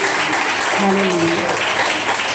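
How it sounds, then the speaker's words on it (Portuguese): Applause fills a church service, dense and steady throughout, while a voice calls out over the clapping. "Mais palmas para Jesus."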